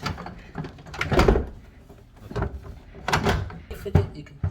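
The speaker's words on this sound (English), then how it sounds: "you can get this drawer out and gently lift it up" A Fisher & Paykel double-drawer dishwasher drawer being handled and lifted out, with repeated knocks, rattles and sliding bumps up close, while a person talks.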